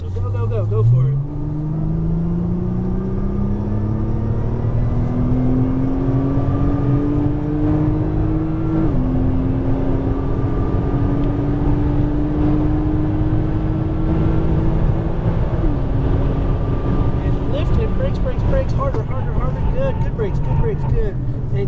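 A Nissan GT-R accelerates hard at full throttle on a motorsports course, its engine note climbing steadily through the gears with short shift breaks, loud and continuous from inside the car while a person speaks over it.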